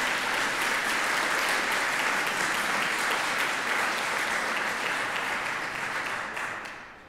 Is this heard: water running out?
no